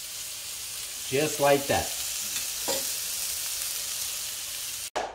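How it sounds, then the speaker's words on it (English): Tuna steak sears in a hot cast iron pan with a steady sizzle and frying crackle, a few louder stirring bursts, and a short spoken phrase over the cooking. "Cast iron will give you a really nice sear."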